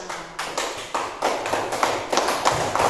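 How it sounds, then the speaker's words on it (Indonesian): A fourth-grade class claps for a classmate: loose, uneven bursts of close hand claps and taps, building into a ragged patter of small hands in a room. "Oke, tepuk tangan untuk Rosita Septiana"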